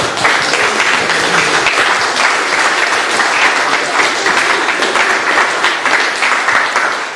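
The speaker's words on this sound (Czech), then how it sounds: "čili chcete-li, můžete si zatleskat" Sustained applause from a seated audience at a conference discussion on social movements and trade unions, dense steady clapping filling the whole stretch at full loudness with no voices over it.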